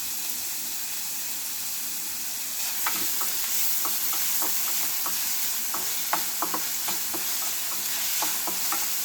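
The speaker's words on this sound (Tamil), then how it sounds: "ஒரு பேனில் ஆயில் ஊற்றிட்டு நல்லா ஹீட் ஆனோடனே ஆனியன் போட்டு நல்லா வதக்கிக்கோங்க." Onions sauté in hot oil in a pan while a mushroom masala is being made, giving a steady close sizzle and hiss with scattered clicks and scrapes from stirring throughout, with no talking.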